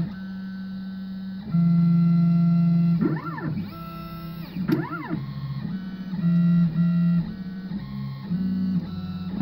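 A CNC machine controlled by Easel drives a pen across tape, its stepper motors giving off steady tones and rising and falling sweeps that sound almost musical, loud and close with no talking.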